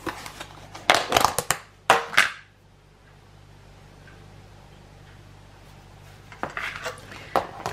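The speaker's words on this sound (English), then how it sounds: "in my bowl here, I'm going to put in a tablespoon of cumin" Spoonfuls of ground cumin and coriander go into a kitchen bowl for a beef burger mix, heard as a cluster of close metallic clinks and taps, then a quiet pause, then more scraping clatter near the end.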